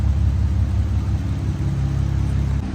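A tuned M-Sport BMW 540i with its exhaust cutout open idles outside the car in a loud, steady, deep rumble with a faint whir, no voices.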